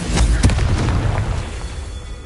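A Confringo fire spell in Hogwarts Legacy bursts with a deep booming blast, a short loud explosion that rumbles and fades over a couple of seconds.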